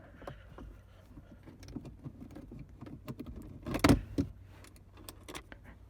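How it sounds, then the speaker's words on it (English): Screws are worked out of the face plate around the stereo in a 2005 Honda CR-V, making soft scraping and clicking taps, with one louder rattling clatter near the middle, close by and no talking. "So I'm going to take out the two screws here."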